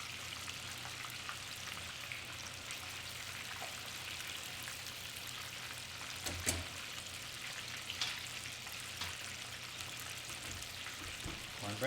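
Chicken fries in hot oil with a steady, dense crackle and sizzle that holds at an even, fairly soft level, with a few sharper pops and no voices.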